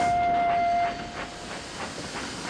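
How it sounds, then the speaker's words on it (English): Steam engines in the Trainz video game puff rhythmically, starting with a sustained steam whistle and hiss that give way to regular chuffing beats at moderate volume. "the others puffed cheerfully away to fetch their train."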